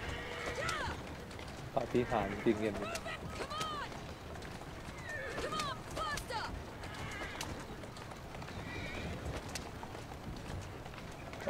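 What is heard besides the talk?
horse neighing and galloping in the video game Assassin's Creed Syndicate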